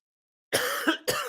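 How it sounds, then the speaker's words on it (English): A close, sharp cough followed by two shorter coughs in quick succession, loud and clear against silence. "A little cough, a little sympathy cough."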